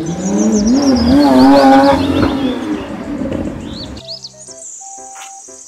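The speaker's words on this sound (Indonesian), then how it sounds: "mobil balap" A toy race car plays a loud electronic sound effect: a revving engine with wavering squeal-like tones that fades out, followed by a short string of beeps.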